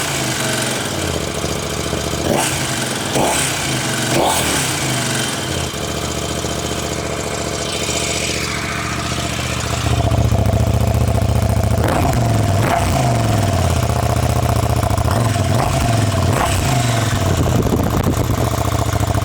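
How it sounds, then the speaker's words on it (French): KTM 990 RCR motorcycle idling on its stock exhaust, a loud steady low rumble with uneven pulsing and occasional blips that swell the sound louder partway through, no talk over it. "je vais vous faire écouter le son de cet échappement d'origine"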